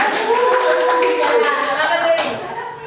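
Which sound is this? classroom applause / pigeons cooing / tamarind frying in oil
classroom applause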